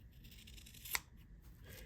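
A single quick snip of scissors cutting fabric for a homemade potholder, one short, quiet cut standing alone against a faint background.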